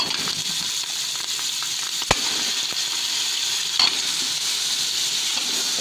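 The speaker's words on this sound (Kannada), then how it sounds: "ಇವಾಗ ತಲೆ ಮಾಂಸ ಹಾಕ್ತಾಯಿದ್ದೀನಿ." Goat head meat hits a pan of frying onions, giving a continuous bright sizzle with occasional stirring clacks and scrapes, close and steady throughout.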